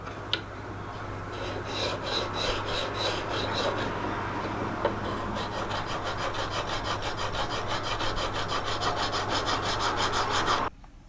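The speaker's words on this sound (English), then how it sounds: "time to sand the handle down to" Steady rasping and rubbing as a knife handle is sanded down, a continuous close scratchy stroke that speeds into a faster rhythm before cutting off abruptly.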